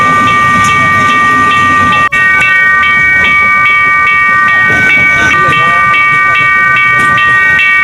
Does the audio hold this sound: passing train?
yes